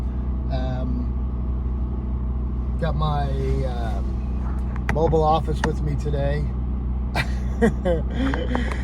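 A portable generator runs with a steady low hum in the background at a construction site beside a work truck, while someone talks over it throughout.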